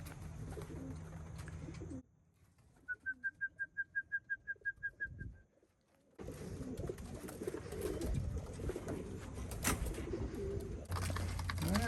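Outdoors at a pigeon race, a pigeon gives a brief run of about a dozen evenly spaced coos or whistles, set between stretches of wind and rustling noise.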